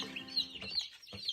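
Young laying chicks on a small homestead give a few bright, high cheeps and peeps close by, short overlapping calls with brief gaps between them.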